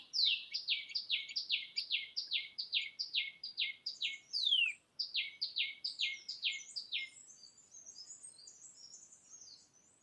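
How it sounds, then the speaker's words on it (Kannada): A parrot perched on a banana flower in a plantation gives a long run of rapid, repeated shrill chirps, bright and fairly close, followed by a thinner, softer twittering trail. "ಬಾಳೆಮುತಿಯಲ್ಲಿ ಕೂತ್ಕೊಂಡು ಒಂದು ಗಿಳಿ ಏನೋ ತಿಂತಾ ಇದೆ ಅದನ್ನೇ ವೀಡಿಯೋ ಮಾಡ್ತಾಯಿದ್ದೀನಿ"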